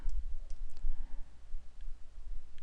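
Mouse clicks on a trading website chart land as a few faint, sharp ticks scattered over a low background hum, with no talking.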